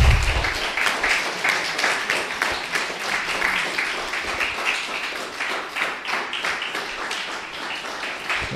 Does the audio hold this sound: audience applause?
yes